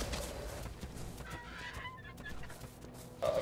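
Bird creature in a video game squawks and clucks faintly against a low rumbling game soundscape, with a few brief calls over about three seconds.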